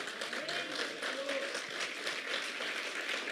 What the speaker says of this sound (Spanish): yo no sé si alguien le da un aplauso